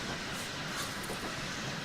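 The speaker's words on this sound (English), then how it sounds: "It's a tube train, you know" A London Underground tube train runs in a train simulator game, giving a steady rumbling roar with hissing wheel noise that holds constant without a break.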